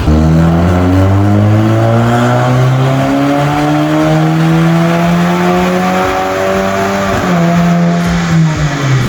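An Audi A3 engine wails loud and close on a dyno, its pitch climbing steadily through a long sustained pull before a brief shift dip and another rise, with no speech.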